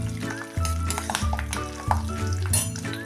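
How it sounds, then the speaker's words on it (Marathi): Cumin seeds and garlic cloves fry in hot oil with a steady, loud, close sizzle. Stirring and a few light scrapes of the pan come through on top of it, with no one talking. "जिरे आणि लसूण पाकळ्या आपण आता अशा थोडा वेळ परतून घेऊया।"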